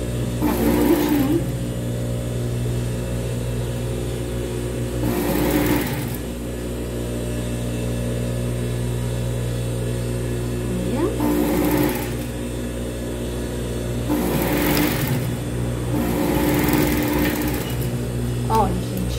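Seams on children's ruffled shorts run through a sewing machine in short whirring bursts separated by pauses, while someone talks over the stitching.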